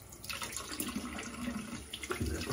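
Water runs from a bathroom tap into a sink in a short, steady splashing stream while a man rinses the blade of a mustache trimmer, close by and fairly quiet.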